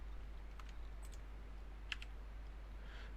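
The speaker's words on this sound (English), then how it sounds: "I'm going to type in htop" A few scattered keystrokes tapped on a computer keyboard to enter the htop command, faint light clicks in small clusters over a low steady hum, no speech.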